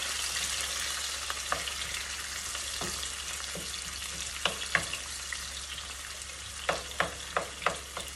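Chopped garlic, onion, green chili and cumin seeds fry in hot oil with a steady, dense sizzle. Occasional sharp clicks of a spatula stirring against the pan come through near and clear.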